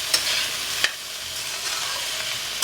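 Poha upma frying in oil in a pan, stirred with a spoon: a steady, close sizzle with a few sharp scraping strokes of the stirring spoon punctuating it, no voices.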